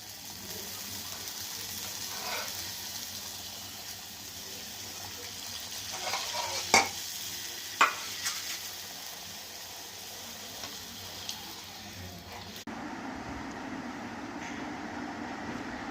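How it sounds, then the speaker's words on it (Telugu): Puris frying in hot oil, a steady bubbling sizzle with a few sharp clinks of a utensil midway, fairly close and continuous until the sound shifts near the end. "ఈ ఆయిల్లో వేసేద్దామండి. పూరీ వేస్తున్నాను చూడండి"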